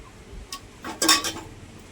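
Potato with cumin, coriander-cumin powder and turmeric is stirred in a pan, a few quick metallic clinks and scrapes of the spoon clustered in a short burst.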